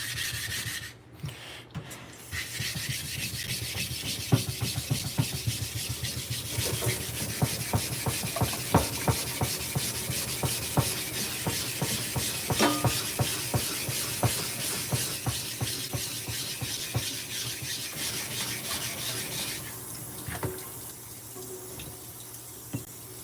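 A steel blade rubbed steadily back and forth on the coarse 220 grit side of a dual 600/220 sharpening stone, a close, continuous rasping scrape with regular strokes and wet grit, no voices.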